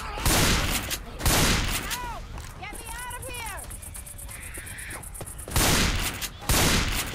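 Rapid bursts of gunfire in Left 4 Dead 2 blast at the Witch in two loud volleys, separated by a quieter stretch of in-game cries and chirping effects.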